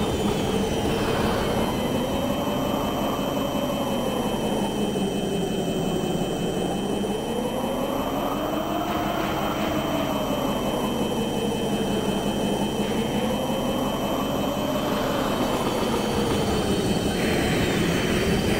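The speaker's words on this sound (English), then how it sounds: "the enemy aircraft will generally attack the turrets first" Enemy aircraft in the video game Armored Core, a loud continuous droning engine tone that rises and falls in slow repeated sweeps as craft circle and pass, with a steady high whine underneath.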